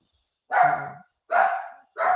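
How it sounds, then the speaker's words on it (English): Noisy dogs bark in three loud, separate, evenly spaced barks, each under a second long, with silence between and no talk. "Real life and very noisy dogs intrude on our space here."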